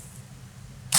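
Scissors snip through a chunk of flash tail material at a fly-tying bench, a single brief crisp cut near the end of a quiet stretch.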